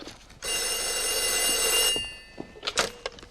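A telephone rings with a loud, sustained electronic bell tone for about a second and a half, then cuts off into brief clattering and handling noises.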